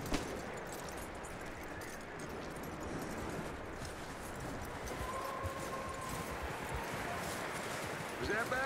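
Horse hooves clip-clop at a steady gait in Red Dead Redemption 2, a continuous rhythmic patter under a dense game soundscape with a voice speaking over it.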